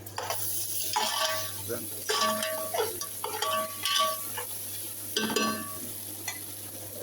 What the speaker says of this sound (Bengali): এই যে চিকেনটা শুধু কষায় কষাইতে কষাইতে কষাইতে কষাইতে